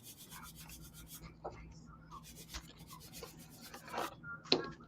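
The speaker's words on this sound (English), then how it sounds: "I'm not just sanding on my floor" Small wooden doll furniture being sanded by hand: faint, scratchy rubbing strokes come in short, irregular passes, close and quiet, with a few light knocks.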